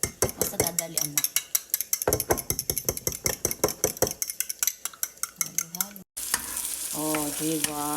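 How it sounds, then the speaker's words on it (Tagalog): Eggs being stirred in a frying pan with a utensil, quick repeated scraping clinks against the pan over a soft sizzle, close and rhythmic, before someone speaks near the end. "Mas bet ko dito maghalo ng itlog."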